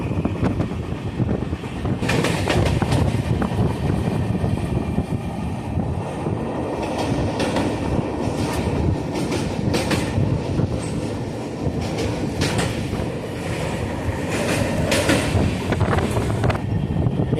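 A train runs steadily on rails past a backwater near Munroe Island in Kerala, with continuous rumbling wheel noise and rhythmic clatter throughout, heard from on board without any voices.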